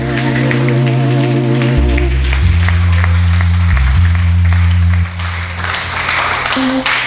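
Church congregation clapping together, a dense steady patter of hands running under loud music with sustained bass and keyboard notes throughout.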